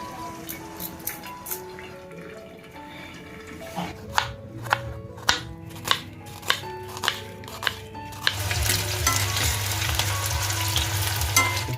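Evenly spaced knocks ring out over music-like tones, then hot oil for a prawn gravy begins a steady, fairly loud sizzle in a pan for the rest.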